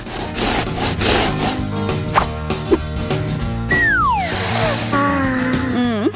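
Food is sliced in half with a rasping, sawing cut, steady strokes close and loud with a few sharp scrapes near the end.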